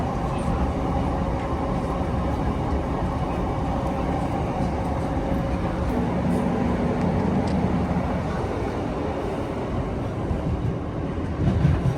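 ScotRail Class 156 diesel train running between Carlisle and Dumfries, a steady loud rumble of engine and wheels on track heard from inside the carriage, continuous with no voices.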